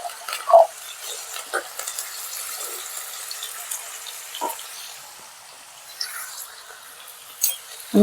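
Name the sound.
potatoes frying in hot oil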